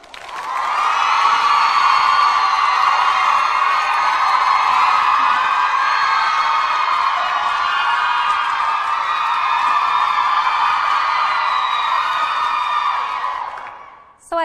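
A large audience cheers, whoops and claps continuously to welcome two medical-faculty students onto a stage at a university event, a dense, loud wash of crowd noise that fades out at the end.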